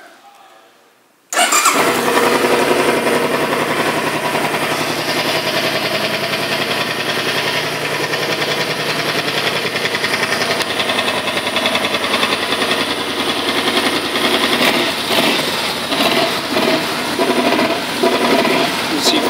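A 2013 Suzuki Boulevard C50T motorcycle cranks and fires up after a short hush, then settles into a steady, loud, close idle that runs unbroken to the end with faint talk underneath.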